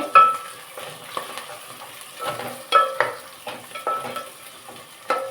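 Onions and green chillies fry and are stirred in a pan on a stove, with repeated sharp scraping and clinking strokes over a steady sizzle, close and fairly loud, no voices.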